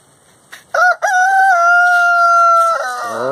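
Roosters crow loudly and close, one long sustained cock-a-doodle-doo with a trailing lower call, in a flock of hens and two males.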